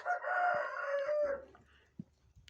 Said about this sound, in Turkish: Tabii şimdi bir içeri bakalım horuzlarımıza.